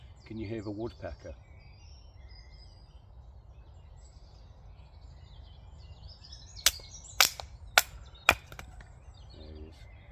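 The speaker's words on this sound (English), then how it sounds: "Can you hear the woodpecker?" Woodpecker pecking at a bushcraft camp in the woods: four sharp, separate knocks spaced about half a second apart against quiet outdoor ambience, after a short earlier voice and faint birdsong.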